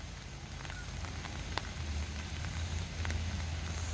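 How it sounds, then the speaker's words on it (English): Light summer drizzle falls outdoors in the evening, a soft steady hiss of rain with faint scattered drop ticks and a low background rumble, no voices. "It's drizzling a little bit."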